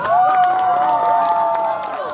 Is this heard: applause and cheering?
yes